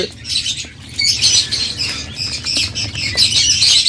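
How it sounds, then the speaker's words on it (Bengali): Silver and classic quail in a breeder's bird market pen give repeated short squawks and chirps, with wing flaps and pattering around them, fairly close and continuous. "এখানে রয়েছে সিলভার কোয়েল ক্লাসিক কোয়েল"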